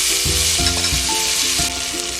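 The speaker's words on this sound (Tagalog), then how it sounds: "Butter. Let it melt. Now let's add our potatoes," Potatoes fry loudly in melted butter in a pan, a strong close sizzle with rhythmic knocks and scrapes as they are stirred; no speech.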